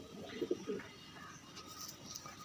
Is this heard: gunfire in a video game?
no